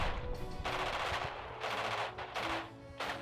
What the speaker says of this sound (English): here comes the artillery support from Cheater